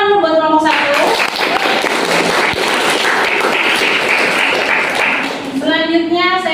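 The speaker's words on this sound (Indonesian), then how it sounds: "Tepuk tangan buat kelompok 1." Students in a university classroom applaud a group presentation: a dense, steady wash of clapping runs through most of the clip, with speech before and after it.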